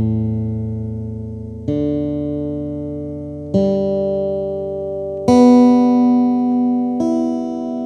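Gopher Wood K330RCE acoustic-electric guitar sounded one open string at a time: five separate plucks, each ringing out and slowly decaying before the next, close and clean with no talking.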